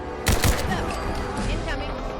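Gunfire rings out in Fallout 4's Nuka World. A loud burst of shots comes early, then a continuous busy rumble of combat noise, and a voice speaks over it.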